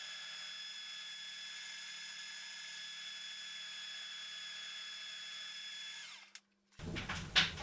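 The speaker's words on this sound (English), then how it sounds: "we need to drill the horn plates for the screws that will go in" A high-pitched power drill whines steadily for several seconds drilling screw holes in metal horn plates held in a vise, then cuts off abruptly, followed by a short burst of clattering and handling noise.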